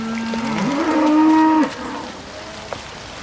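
A single deep, drawn-out cow moo rises and sustains for over a second, loud and close, then fades into quiet, from cattle on the move.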